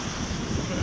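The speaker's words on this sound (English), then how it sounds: "It is very windy up here." Strong wind gusting over a hilltop country house and garden at Raixa in Mallorca, a steady, close, broadband roar buffeting without pause and no voices.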